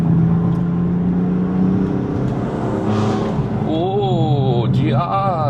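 A 600-horsepower BMW M4 cruising mildly in third gear on the Genting Highlands road, its engine droning loud and close with rising and falling revs and a few brief exhaust pops, a voice talking over it.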